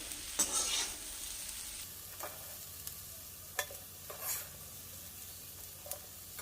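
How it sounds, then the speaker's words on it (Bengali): Fried potatoes for Bengali aloo posto are scooped out of a wok into another pot, with a few sharp scraping clinks of the utensil over a faint, steady sizzle of oil. "এবার আমি আলুগুলোকে অন্য পাত্রে তুলে নিচ্ছি"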